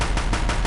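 A big gun fires in the video game Horizon Zero Dawn, a brief burst of loud, rapid repeated blasts in quick succession.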